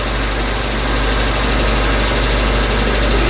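A Suzuki car engine idles slightly high, likely needing carburettor and timing adjustment, with a steady, close, continuous low rumble and even mechanical throb and no talking.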